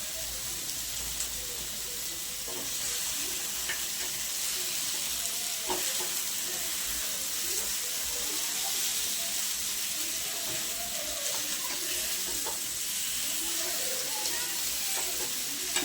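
Fish coated in semolina and rice flour fries in shallow oil with a steady, close sizzle and crackle, punctuated by a few sharp pops and occasional utensil clinks, with no voices.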